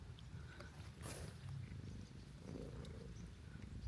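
A house cat grooms itself up close, a soft continuous purr running underneath faint rhythmic licking, low and steady throughout with no talking.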